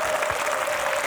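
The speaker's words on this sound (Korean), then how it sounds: "박수!" Studio audience applause on a 1999 Korean TV variety show, a dense, steady wash of clapping for just over a second with no voices above it.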